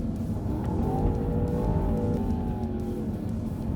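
A 2025 Land Rover Defender Octa with its 635 hp engine accelerates on a smooth gravel road, a steady, loud engine drone that climbs in pitch over a broad rumble of tyres on gravel, heard from inside the car.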